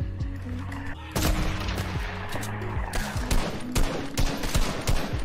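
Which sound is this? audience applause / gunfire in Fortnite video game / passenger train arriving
gunfire in Fortnite video game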